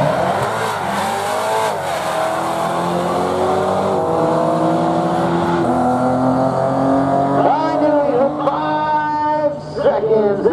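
A BMW drag car launches down the Barona drag strip, a loud engine revving through rising and shifting tones with some tire noise, then climbing sharply again near the end, while an announcer talks over the racket.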